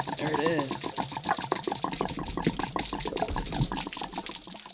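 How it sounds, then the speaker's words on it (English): Water gushing and splashing as it drains from an RV water heater tank, a continuous rushing pour with gurgles while someone talks over it. "all the water is drained out of the tank"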